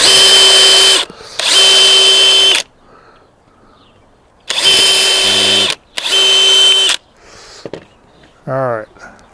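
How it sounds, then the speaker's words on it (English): Power drill boring holes into a wooden fish tank stand, four loud sustained bursts of a second or two each with short gaps between, close by, then quieter handling clatter and a brief voice at the end. "Drill a couple holes."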